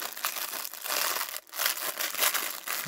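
A bag of small grey plastic toy building-block pins rustles and crinkles continuously at close range, with a brief pause midway, no voices.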